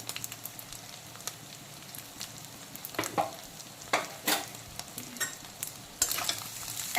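Fish roe with salt and turmeric being stirred in a pan: a soft background sizzle broken by irregular scraping strokes of a spatula, growing more frequent and a bit louder toward the end.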